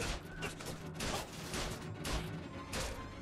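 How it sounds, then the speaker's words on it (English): Hand cannon gunshots ring out in the video game BioShock Infinite, several loud cracking blasts fired at long range in quick succession amid game action noise. "you can also shoot people, believe it or not, with the hand cannon from all the way across the map"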